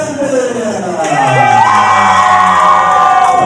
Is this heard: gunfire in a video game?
no